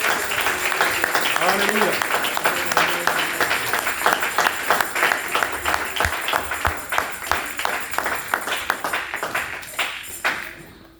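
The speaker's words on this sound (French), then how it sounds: "nous acclamons très fort la parole de Dieu" Church congregation applauding, loud clapping that settles into a steady rhythmic beat and gradually fades, with a voice calling out over it.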